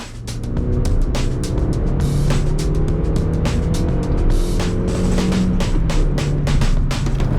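A Suzuki Swift Sport engine pulls hard while accelerating from 60 to 100 km/h, a loud close-up drone rising steadily in pitch over several seconds, with road and wind noise and no talk.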